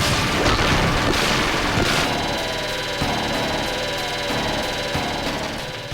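Dense game explosions and rapid gunfire from Gunstar Heroes blast without pause, loud and layered with booming hits and a driving engine-like rumble, no voices.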